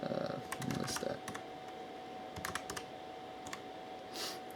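Typing a command on the keyboard of a homemade Apple II compatible 6502 computer, a scattered run of close, crisp keystrokes with irregular pauses over a steady electronic hum.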